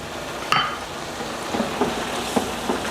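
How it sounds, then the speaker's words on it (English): Shell pasta with clams and butter is stirred in a pan, giving a soft sizzle under a few scraping and clinking utensil touches against the metal, close and fairly quiet. "And we just stir to coat."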